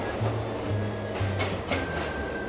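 A BRIO toy train rolls along a wooden railway track with a steady rumbling clatter and rhythmic clicks at the joints, close and fairly loud, with no talking.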